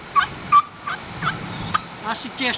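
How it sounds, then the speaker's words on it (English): A Kenney's Baby Bigmouth all-wood turkey call gives a series of short, sharp yelps, about eight notes in an uneven rhythm, heard close and alone. "anywhere on here creates a great yelp"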